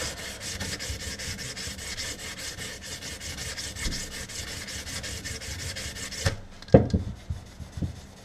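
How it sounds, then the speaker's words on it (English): Hand sanding of a gun stock with 220-grit sandpaper, a steady rapid back-and-forth rubbing rasp close up for about six seconds, then stopping with a few handling knocks. "220 sandpaper. Sit there and go over it."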